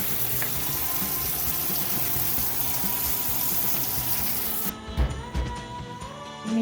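Boiled potatoes rinsed under a running kitchen tap, a steady close splash of water that cuts off near the end, leaving a few clatters and drips.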